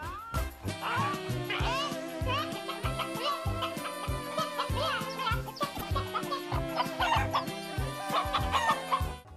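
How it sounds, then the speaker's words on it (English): Chickens and roosters on Kauai cluck busily and keep up a dense, continuous chatter, with crowing mixed in. Loud rhythmic percussive music plays throughout. "You can also see a heckload of chickens and roosters there as well."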